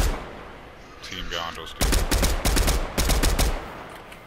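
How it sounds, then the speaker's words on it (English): Video game gunfire in Fortnite, a dense run of loud sharp shots in bursts, some rapid like automatic fire, with a player talking over the start. "Getting shot at from them across there"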